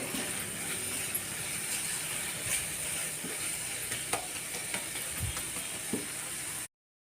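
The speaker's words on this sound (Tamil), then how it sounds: "இது அப்படியே நம்ம நல்லா கிண்டி விட்டுக்குருவோம்." Spice powder stirred in a hot pan while making spot idli, a continuous sizzling hiss with faint scraping and clicking from the spoon, soft and steady throughout.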